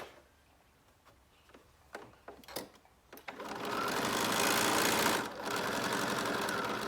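A sewing machine stitches a zipper pouch: a few short taps and stops at first, then a steady, loud run of continuous stitching with a brief dip before it picks up again.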